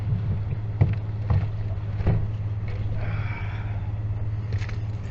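A 2000 Dodge Dakota engine idles steadily after a fuel pump replacement, a low continuous hum heard from nearby with wind buffeting the microphone and a few knocks.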